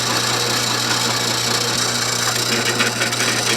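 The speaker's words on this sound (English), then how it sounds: "Now to finish drilling this through." A power drill grinds steadily through a wooden pen blank with a continuous whirring hum and scratchy chewing texture, close and loud throughout.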